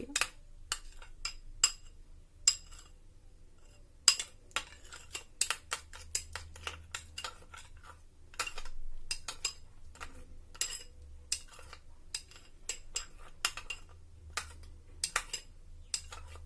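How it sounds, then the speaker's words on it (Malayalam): Utensils clinking and scraping against a bowl as a fruit and vegetable salad is tossed with olive oil, sharp irregular taps and knocks close by with quiet gaps between them. "ഇനി ഇത് നമുക്ക് നന്നായിട്ടൊന്ന് മിക്സ് ചെയ്യാം"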